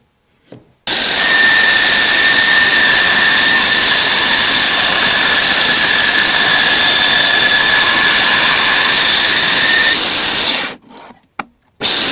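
A bandsaw rips steadily through a wooden hammer handle, its loud sustained whine running about ten seconds with a high tonal hum, then cutting off into brief clatter and silence.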